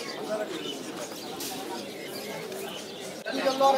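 Pigeons coo at Zinzira bird market amid a busy crowd, soft murmuring calls mixed into steady nearby chatter and market noise, with people talking throughout.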